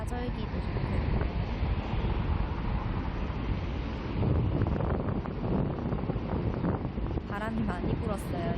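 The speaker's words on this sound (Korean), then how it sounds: "바람 소리가 막 들려요." Strong wind buffets the microphone in a constant, rough roar, gusting throughout with a faint voice briefly underneath.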